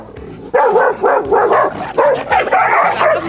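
A dog gives a rapid run of yips and whimpering barks, close and fairly loud, during a street interview with a dog trainer in Dieppe, with outdoor background noise around it.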